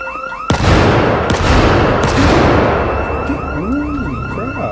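A sharp, loud bang opens a burst of noisy crackling gunshots in Project Zomboid, with a rising-falling alarm wail tracing through the background.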